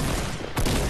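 A single sharp gunshot from a weapon in the video game Fortnite cracks out loudly just past the midpoint, following a stretch of low game background noise.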